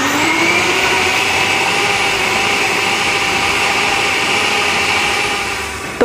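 A kitchen blender whirs steadily at close range while chopping chicken and shrimp coarsely for chicken dim sum, one continuous loud motor drone that runs for several seconds and stops abruptly at the end.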